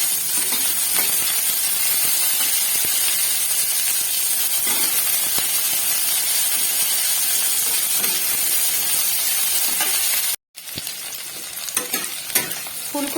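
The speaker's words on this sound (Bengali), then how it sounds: "ফুলকপি আর গাজর ভাজা ভাজা হয়ে গেছে।" Cauliflower, beans and carrot frying in a pan, a loud continuous close sizzle with scraping stir strokes and clatter, briefly cutting out then resuming.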